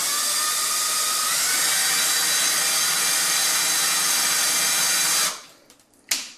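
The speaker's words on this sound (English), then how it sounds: "go ahead and drill your holes" A loud, steady high-pitched whine of a power drill with a 1/16-inch bit drilling holes in a wall, running continuously for about five seconds, then stopping, followed by a brief clatter.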